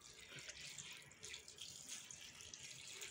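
Water poured onto soaking mixed pulses (chickpeas, kabuli chana, papdi seeds) for cooking, a steady faint splashing stream running for several seconds with no talking.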